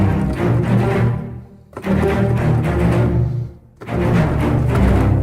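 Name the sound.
layered orchestral string libraries playing low staccato cellos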